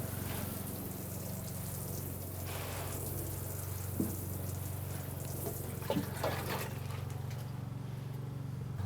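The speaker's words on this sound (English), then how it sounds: "I then gave them another run over with the watering can, again about another 5 litres, and let that soak in too." Water pours steadily from a watering can onto seed trays, a continuous close splashing hiss with faint patters and a low background hum, and nobody speaks.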